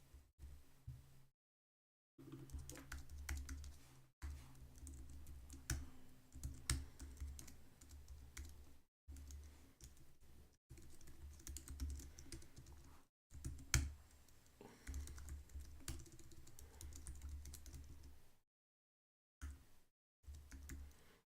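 Fast typing on a computer keyboard while coding, quiet and close, with continuous bursts of clicking keys broken by brief full pauses.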